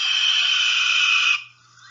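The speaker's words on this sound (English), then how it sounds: "The classic call that I want you to know is the typical scream." A single drawn-out, hoarse raptor scream holds steady for over a second, then cuts off abruptly into quiet.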